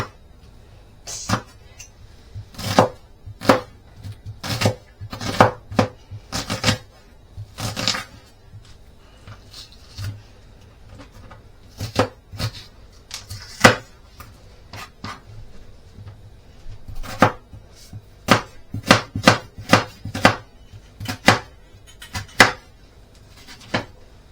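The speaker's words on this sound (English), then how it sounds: "once you've peeled your onion and cut it in half, you're going to want to chop it into smaller pieces" Knife chopping an onion into smaller pieces on a board, a long run of sharp, distinct close-up chops in irregular bursts with short pauses between them, no talking.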